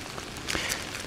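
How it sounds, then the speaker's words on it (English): Rain falling steadily during a forest hike on a stormy day, a dense close hiss of drops pattering on surfaces with a brief louder splash in the middle. "It's been raining like this for the last half hour"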